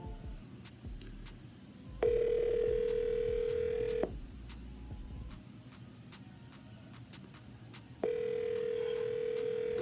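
A phone line rings out while calling a seller: two long steady ringback tones a few seconds apart over a low rumbling car-like background hum, fairly faint and with no voices.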